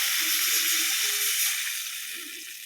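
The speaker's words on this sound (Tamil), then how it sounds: "இப்போ வந்து பார்த்திங்கன்னா கரைச்சி வச்சுருக்க புளியை ஊற்றிக்கலாம்" Dissolved tamarind water poured into a pan of sizzling fried shallots for prawn curry, giving a steady loud hiss and steam sizzle that holds for nearly three seconds and eases slightly at the end.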